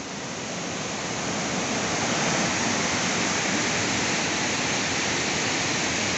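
A strong river current at Serra Azul, Velho Palmares, Pernambuco rushes over rocks in a steady, dense roar that swells slightly at the start and then holds loud and constant throughout, with no voices.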